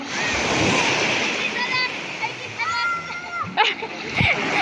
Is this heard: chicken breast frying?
no